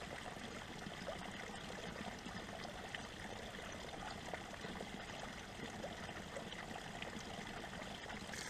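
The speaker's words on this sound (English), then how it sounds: "A waterfall. How cool is that?" A small spring-fed waterfall on a mountainside runs in a steady, even rush of falling water, moderately close and uninterrupted, with no voices.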